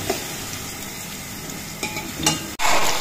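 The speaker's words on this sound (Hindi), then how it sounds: "तो 2 चमचे हमारे लहसुन अदरक का पेस्ट डलेगा" Garlic, ginger and green chili paste fries in a pan with a steady, moderate sizzle, broken by a few scraping stirs and a sharp clank near the end, with no voices.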